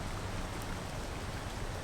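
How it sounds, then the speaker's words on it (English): Steady rain falls in Georgetown, a dense, even hiss of drops on surfaces that holds constant throughout with no voices. "just because it started raining"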